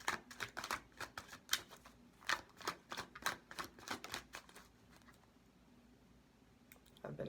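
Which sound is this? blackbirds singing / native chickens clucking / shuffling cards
shuffling cards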